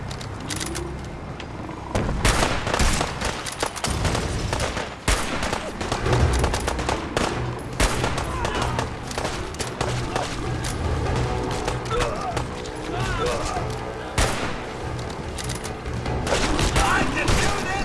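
Heavy gunfire in a Fallout 4 Far Harbor battle, with dense bursts of shots, booms and rapid fire nearly continuous and loud throughout, and voices shouting in places.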